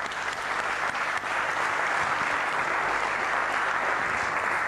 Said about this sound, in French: Nous allons donc applaudir Kofi Olomide.